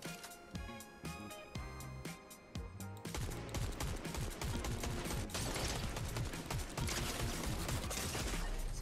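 Sustained bursts of gunfire in Fortnite, sparse sharp shots at first, then a dense continuous barrage of rapid automatic fire that stays loud to the end.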